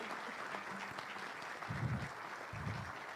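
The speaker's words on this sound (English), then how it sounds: "let's give the families a round of applause" Audience applause at a Medal of Honor ceremony, steady clapping from a crowd at moderate distance for about three seconds, with a few voices briefly underneath.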